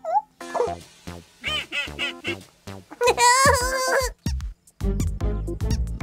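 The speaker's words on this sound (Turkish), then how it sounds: "Pocoyo, Pato, galiba yavru kuş da sizinle oynamak istiyor" A cartoon baby bird chirps and cries in short, bright, squeaky bursts alongside quacking duck-like calls, loud and close with brief pauses between phrases.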